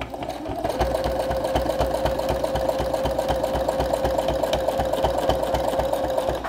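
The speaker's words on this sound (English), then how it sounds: "So I'm actually going to quilt towards me on this diamond and I'm going to go up one side" A sewing machine doing free motion quilting with a free motion foot runs steadily and loudly throughout, its rapid needle strokes forming a continuous close mechanical whir with no voices.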